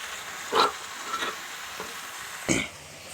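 Garlic, green chilli and cane shoots fry in oil, with quiet, faint sizzling punctuated by a few bursts of stirring and spatula scrapes.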